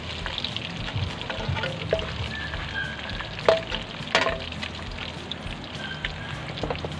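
Sautéing in a frying pan for pancit with sotanghon and canton, a steady loud sizzle with a few scraping stirs and small bursts in the middle.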